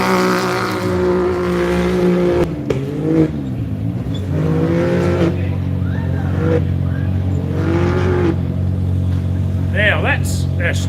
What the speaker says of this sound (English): Jody Waitley in the Can-Am Maverick Loveday 4x4 park machine gets on track